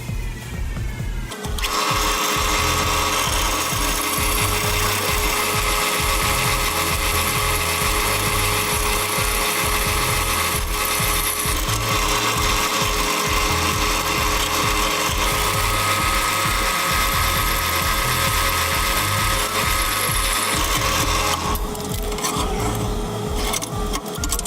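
A drill bores holes in a metal bracket, a loud, steady, whining motor drone with a rapid rattling chatter that runs almost nonstop after a short quiet start, close up and alone.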